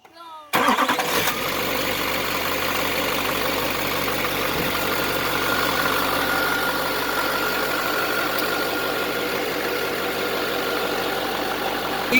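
An LMM Duramax diesel pickup truck cranks and fires up after a fuel filter replacement, then settles into a loud, steady, close diesel idle with a knocking rumble that continues throughout.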